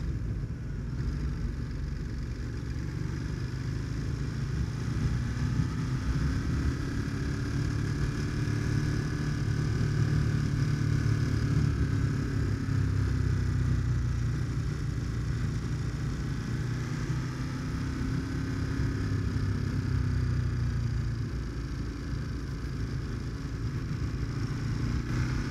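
A Ducati Monster motorcycle engine runs steadily for a long stretch, a low, continuous rumble with slow rises and falls in pitch as the revs change, heard alone with no talk.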